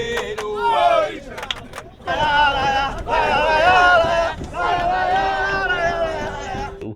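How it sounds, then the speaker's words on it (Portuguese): Palmeiras supporters chant in unison inside the Palestra Itália football stadium, a loud, sustained mass of voices rising in waves with a brief dip near the two-second mark. "nossa torcida nunca para de cantar"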